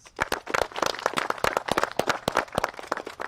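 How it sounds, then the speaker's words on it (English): Sparse, scattered clapping from a small audience greeting a speaker at an event, individual sharp claps at an irregular rhythm, fairly close and moderately loud. "Please give him a round of applause."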